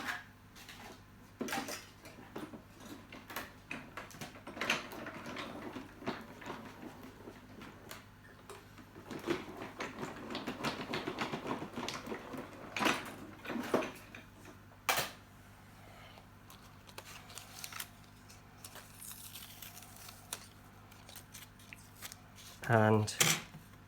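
Scissors cutting fabric for a paper-pieced quilt make soft snips and light clicks with some handling and rustling, fairly faint and close, followed by a brief loud clatter near the end.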